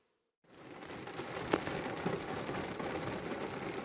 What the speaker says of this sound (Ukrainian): І знову дощ.